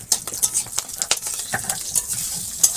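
Chili and cucumber fry in hot oil in a pan, a close crackling sizzle broken by quick clattering stirs and scrapes of a utensil against the metal.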